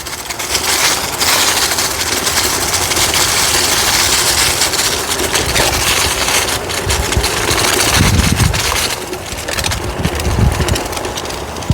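An Isinwheel M10 budget e-bike is ridden across grass, producing a loud, steady rumbling and whirring drone with wind buffeting and a few bumpy thuds toward the end.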